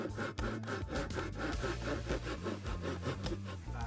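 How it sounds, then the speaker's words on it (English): A handsaw cuts through a piece of wood in quick, rhythmic back-and-forth rasping strokes, close and steady, with no talk. "we had to cut it off with the handsaw on the next day"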